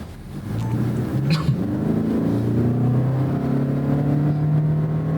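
Toyota Crown Signia with a 2.5-liter inline-four hybrid engine, 243 horsepower and an ECVT, accelerating: a steady, rising engine drone heard from inside, continuous and fairly loud throughout with no talking.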